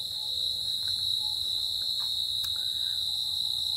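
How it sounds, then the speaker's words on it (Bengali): A steady, high-pitched chorus of crickets trills without a break through a quiet night, with faint scattered sounds underneath. "চারিদিকে ঝিঝি পোকার ডাক।"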